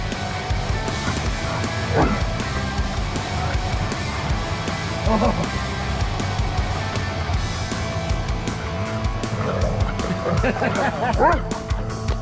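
A dog barks and yips a few times amid steady background noise and a passing car, with some faint voices nearby.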